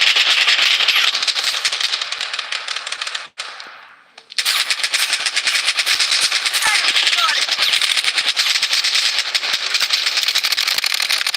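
Rapid automatic gunfire in a squad-based shooter video game, dense and loud bursts that cut out briefly around the middle before resuming, with engine rumble underneath and occasional game voice callouts.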